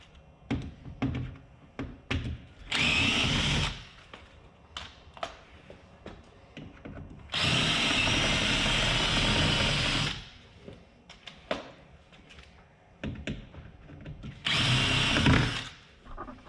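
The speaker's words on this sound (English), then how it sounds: "that's all our rivets drilled" A power drill drills out the rivets on a car door during a speaker install, running in three loud sustained bursts of a few seconds each, separated by quieter tapping and handling knocks.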